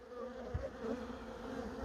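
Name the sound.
honeybees buzzing around an open hive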